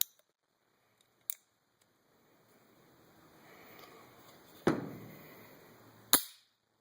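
A Mexican-made Colt Single Action Army clone revolver gives a few sharp metallic clicks as its stiff, heavily sprung action is worked back, each click crisp and close in an otherwise quiet room.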